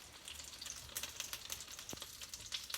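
Tortillas sizzle on a little skillet, a soft, steady frying crackle heard alone and fairly faint, with one quiet knock partway through.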